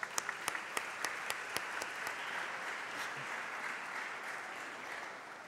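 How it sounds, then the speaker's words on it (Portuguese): An audience at a public debate applauds to welcome a speaker, a few loud individual claps up front swelling into a sustained, even wash of clapping that stays fairly soft. "Vamos receber com as palmas"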